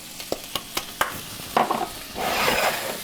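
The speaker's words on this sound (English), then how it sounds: "let's go ahead and add our mushrooms" Mushrooms dropped into a hot pan for homemade chicken spring rolls: a quick series of sharp utensil taps and scrapes, then a rising, close sizzle as they hit the oil and are stirred.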